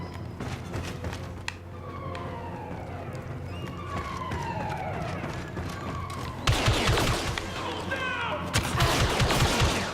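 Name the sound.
gunfire from Star Wars: Battlefront II video game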